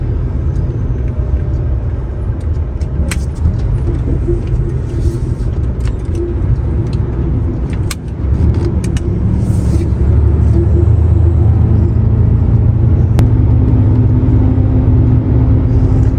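A car engine climbing uphill in third gear in manual mode gives a loud, steady rumble close by, with a brief dip halfway through before the drone resumes.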